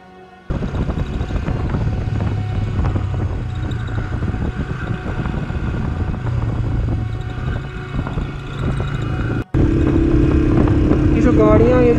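A motorcycle engine runs steadily on a mountain road near Lulusar Lake, close and loud with wind buffeting the microphone, a brief dropout near the end before the drone resumes.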